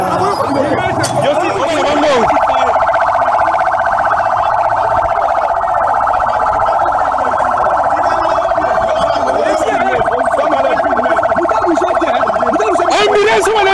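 An ambulance siren wails loud and close, holding a steady continuous tone for many seconds, with crowd noise and shouting voices around it on a street in Congo.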